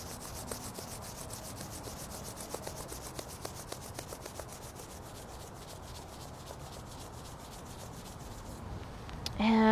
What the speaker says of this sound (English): Rub the hands together again.